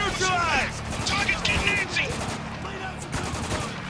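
Gunfire in Spec Ops: The Line, with repeated sharp shots scattered through a busy mix, heard under speech.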